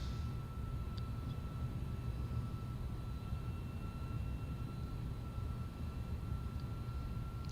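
Steady, loud broadband engine roar from the iniBuilds A300-600R airliner in a flight simulator, holding a constant drone with a faint high whine on top and no talk over it.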